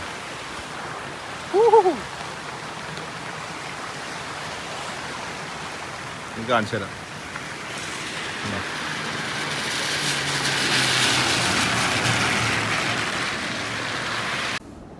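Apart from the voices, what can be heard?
rain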